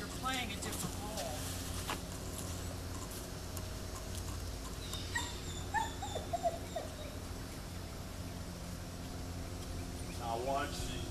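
A Rhodesian Ridgeback named Cinamon, a dog with aggression issues, lets out several high whimpers and yips, some in short rising clusters, under ongoing talk from people nearby.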